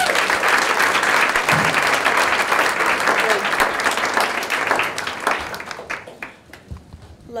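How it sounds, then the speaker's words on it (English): Sustained audience applause at an educational exchange student symposium, dense clapping from a full room that holds steady, then thins and fades out over the final seconds. "applause, please"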